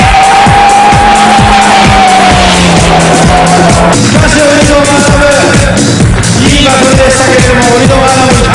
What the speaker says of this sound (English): Taniguchi, way back at the pack, demonstrates some drifting to the fans in the grandstand.